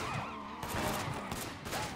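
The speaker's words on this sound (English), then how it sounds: "Way too many gunshots." Dense bursts of rapid gunfire layered over engine roar and clatter, loud and chaotic throughout, a firefight in the video game Sleeping Dogs.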